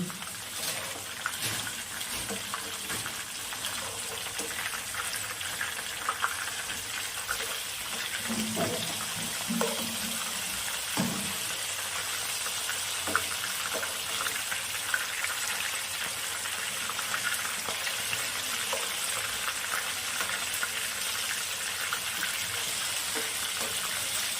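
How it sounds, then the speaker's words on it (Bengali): Bombay duck fish pakoras fry in oil, a dense, even hissing sizzle running throughout with a few small crackles and pops, steady and close, with no talking. "লোটে মাছের পকোড়াগুলো ভাজা হয়ে গেছে"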